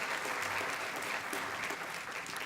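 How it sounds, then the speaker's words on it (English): An audience at a public policy conference keynote applauds in a steady, dense wash of clapping that holds evenly from start to finish, moderately loud and without pauses. "let's give them another round of applause"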